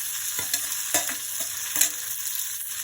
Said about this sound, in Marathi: त्याच्यामध्ये टाकणार आहोत कांदा.